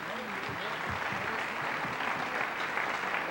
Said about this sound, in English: give Mr. Dibble a little round of applause because he's a great band director